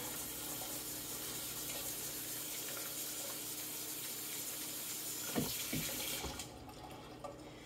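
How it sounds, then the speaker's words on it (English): Tap water runs steadily from a kitchen faucet onto a partly frozen turkey still crusted with ice chunks, a close, continuous splashing hiss that cuts off near the end with a few soft handling knocks. "run a little water on this side."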